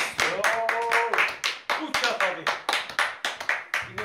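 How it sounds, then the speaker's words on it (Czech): Applause from an audience at a cross-country skiing event award ceremony in the Orlické hory mountains, a close burst of hand claps under shouted voices and cheering. "Potlesk!"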